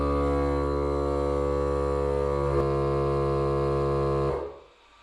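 A small electric tire inflator drones with a steady buzzing hum, constant and close, inflating a supercar tire, then shuts off abruptly near the end.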